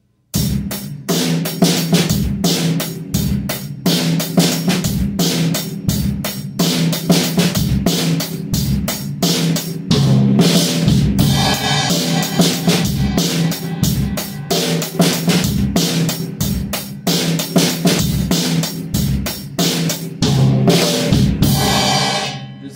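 An eighth-note drum groove plays at full tempo, a dense, loud pattern of steady kick and snare hits with cymbal wash continuing unbroken for over twenty seconds without talk.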